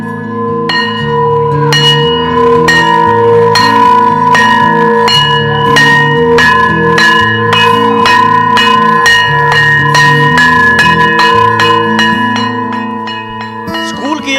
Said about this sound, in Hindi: स्कूल की ये घंटी करीब 9 महीने बाद फिर सुनाई देने लगी है।